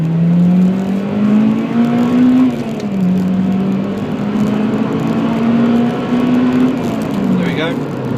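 A Honda Civic Type R EP3 accelerates hard to overtake at around 65 mph, engine pitch climbing in two long rising sweeps with a brief dip between, loud from inside the cabin with a voice speaking over it.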